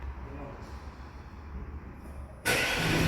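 An Audi A6 with S6 modifications starts up: a quiet low idle rumble with faint talk gives way to a sudden loud burst as the engine catches and roars at the end.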